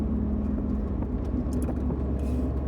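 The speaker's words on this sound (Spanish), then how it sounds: "viene un Ferrari atrás mío. Qué lindo coche." A Ferrari car engine droning steadily and close by, a continuous mechanical hum with a low tone running the whole time.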